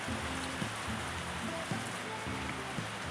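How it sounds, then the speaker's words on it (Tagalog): Steady rain pours down, a dense hiss over a surface, with a low humming tone repeating underneath. "Ang lakas ng ulan."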